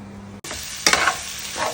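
Potatoes fry in a hot pan with a soft, continuous sizzle, interrupted by a few scraping stirs that bring brief louder surges of crackling.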